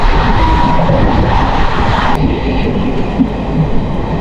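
Palaruvi Express rumbles steadily along the rails, heard from inside a sleeper class coach as it slows past a station, with a constant loud roar and faint rhythmic clatter.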